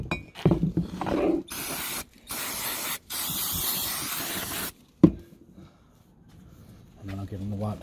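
Brake cleaner sprayed onto brake calipers from a Mark 2 Scirocco GTI being restored for a Polo 86C: several long, loud hissing aerosol bursts separated by short gaps, followed by quieter handling noises and a brief voice.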